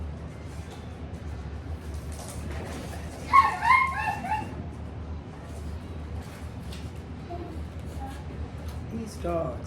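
Dogs barking, yipping and whimpering, with a brief cluster of sharp high yelps in the middle over a low murmur of background speech and noise.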